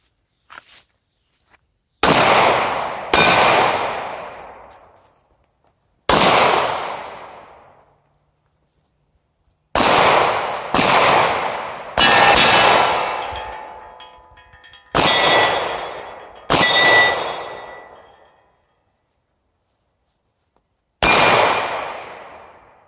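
A .40 caliber Glock Model 23 pistol fires eight single shots outdoors, each a loud sharp crack with a ringing decay, spaced irregularly with pauses between, no talking.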